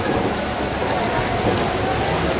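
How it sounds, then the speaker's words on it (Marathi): Dense, loud, continuous rain pours down, a steady hiss of drops hitting surfaces with no pauses. "हा बघा पाऊस या पद्धतीने या ठिकाणी चालू आहे"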